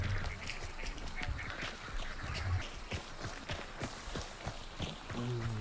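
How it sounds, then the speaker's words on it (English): Ducks quack repeatedly in short, nasal bursts in Hunt: Showdown over a busy background of footsteps and ambient game noise, with a faint voice now and then. "There are ducks right there that I'm avoiding."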